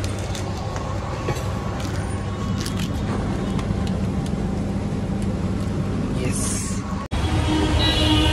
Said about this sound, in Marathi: काय बेकार ट्रॅफिक होते यार इकडे, आणि त्यामध्ये फालतूमध्ये हॉर्नवर हॉर्न चालूच असतात